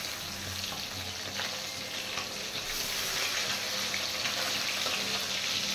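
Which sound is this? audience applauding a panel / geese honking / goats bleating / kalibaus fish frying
kalibaus fish frying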